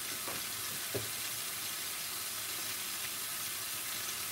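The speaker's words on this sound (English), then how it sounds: "By the way, we're cooking a prawn pathia curry." Prawn pathia curry sizzles quietly in a pan while being stirred, a soft steady hiss with a couple of light scraping knocks near the start, faint and close with no talking.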